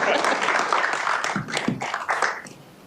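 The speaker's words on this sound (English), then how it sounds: "We can clap for her, yes, it's okay." An audience at a Chicago city press briefing gives a burst of applause, dense and steady at first, then thinning into a few scattered claps before fading.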